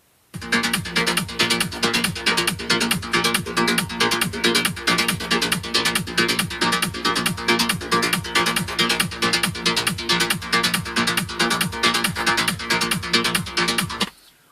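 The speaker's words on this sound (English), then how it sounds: "When we listen to this track with the kick and the bass lines, it would sound like this" A studio dance track built on a kick drum with about seven stacked bass line layers pounds out a steady, even beat, loud and continuous from start to finish with no voices.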